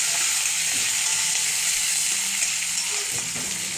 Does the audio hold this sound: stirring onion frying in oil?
yes